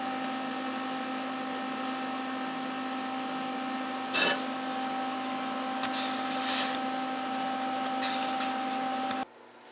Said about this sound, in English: It'll be better as I grind that.